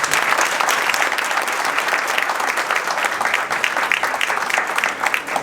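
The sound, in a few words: audience applause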